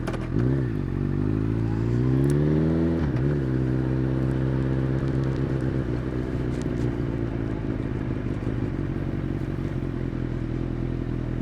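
A Honda CB1000R motorcycle engine runs loud and close while riding through a city, a brief rise and fall in revs early on, then a steady, throbbing idle-like drone after shifting into neutral.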